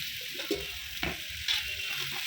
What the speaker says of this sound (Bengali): তারপরে ভাতটা একটু নাড়াচাড়া নাড়াচাড়া করে নিলাম